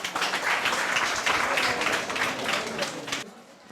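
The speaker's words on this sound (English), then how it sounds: "You clap for the man now." Audience clapping at a school environmental consultation event, a dense, steady burst of applause filling the room for about three seconds before cutting off abruptly.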